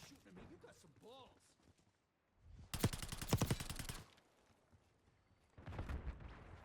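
Gunfire rattles in Black Ops 6. A rapid automatic burst is followed by a later, shorter volley, both loud, and a voice talks in the quieter stretch before them.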